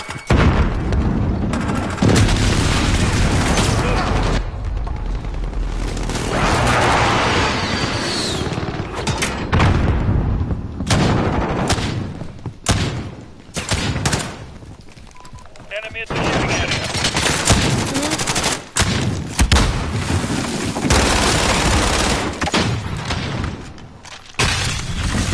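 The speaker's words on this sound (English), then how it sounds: "Enemy precision airstrike." Heavy explosions from a precision airstrike and bursts of gunfire in Call of Duty pound almost continuously, loud and dense, with booming impacts and rattling shots under a voice talking.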